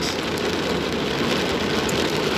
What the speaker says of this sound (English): The rain is really like loud and there's a lot of wind too.